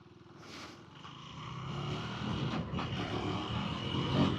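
KTM Duke 390 motorcycle engine revving and slowing under engine braking, a moderately loud buzzing engine note that climbs steadily across the clip, heard alone.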